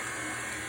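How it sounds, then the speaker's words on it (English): An electric mixer whisking lemon zest into angel food cake batter, a steady close motor whir held at an even pitch for under a second, no voices. "We'll put this just to whisk for a second, just to whisk in our lemon zest"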